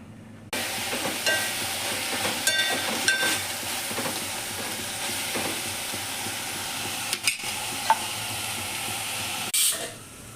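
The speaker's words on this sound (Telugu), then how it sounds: "పప్పుని పోపు వేసుకుందాము" Steady sizzling of spices tempering in hot oil for dal, close and continuous with crackles and small pops, with a few sharp clinks.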